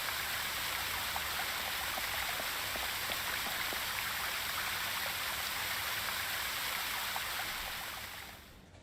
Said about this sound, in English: I had better switch that fountain off.